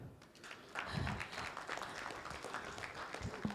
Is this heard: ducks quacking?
no